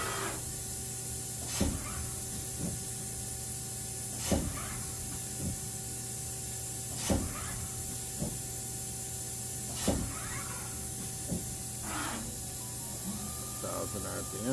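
A 2015 Haas DS-30SSY CNC lathe runs its Y-axis tool at 500 RPM on the sub-spindle. The sound is a steady hiss with tonal machine hum, broken by sharp periodic clicks and bursts of spray every few seconds.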